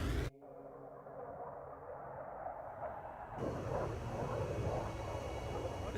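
A jet fighter in the combat flight game Ace Combat 7 roars past in a continuous engine rush that swells after a sudden cut, with a low rumble underneath.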